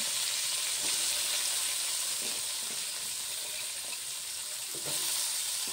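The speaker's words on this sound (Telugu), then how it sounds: "ఈరోజు నేను మీ అందరికీ కాకరకాయ ఫ్రై చేస్తున్నాను" Sliced bitter gourd (kakarakaya) fries in a pan with oil, a dense, steady sizzle that holds evenly throughout, with faint stirring clinks now and then and no talking.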